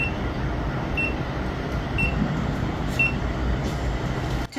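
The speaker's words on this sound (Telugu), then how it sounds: "వినండి, బీప్ వస్తుంది." An Agaro automatic hair curler beeps once every second, three short, thin tones over a steady low background hum, close and clear.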